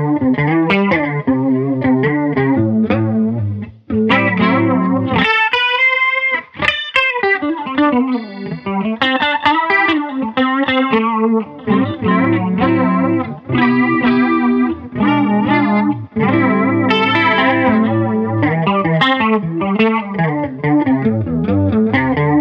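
Electric guitar runs through a Spaceman Meridian Time Modulator pedal set to a phaser, a loud, continuous melodic line with sweeping, jet-like swirls and shimmering modulation across chords and single notes.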